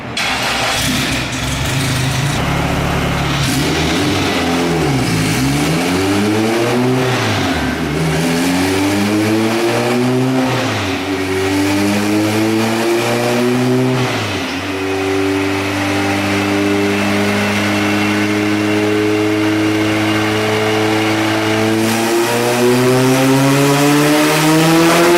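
A turbocharged Honda Civic engine revs on a dyno, loud and close, its pitch sweeping up and down, then climbing steadily to a sustained high-rpm scream that holds to the end.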